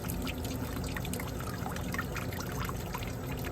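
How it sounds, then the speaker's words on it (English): Water from a hose flushes through the radiator of a 2004 Chrysler Crossfire 3.2 L and pours into a drop pan, a steady splashing trickle that stays even and close with no voices. "Just keep pushing water through until it comes out clear in the drop pan."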